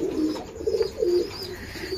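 Pigeons coo softly in a breeding loft in Bangladesh, a few low throaty rolling calls close by over a faint background hiss.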